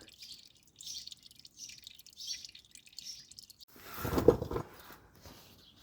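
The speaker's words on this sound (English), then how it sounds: "with the oil filter out, a little bit of oil still draining" Engine oil drains from the opened oil filter housing of a Mk1 Audi TT with a 1.8 T BAM engine. Soft, faint intermittent drips are followed by a louder, brief splattering trickle near the end.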